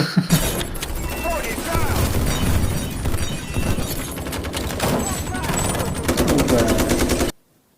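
Rapid bursts of video game gunfire rattle almost continuously, with a voice speaking underneath, before the sound abruptly cuts to silence.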